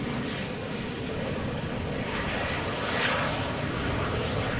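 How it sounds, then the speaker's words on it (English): A German Airways Embraer 190 flying for KLM arrives at Amsterdam Schiphol from Glasgow, its jet roar steady and broadband throughout, swelling slightly near the end as it passes. "Here we have a German Airways Embraer 190 flying for KLM. Arrival from Glasgow."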